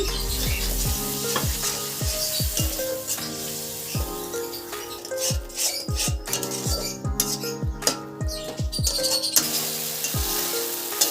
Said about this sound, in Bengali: মশলাটা যাতে নিচে না লেগে যায় তাই আমি সামান্য পরিমাণে জল দিয়ে দিচ্ছি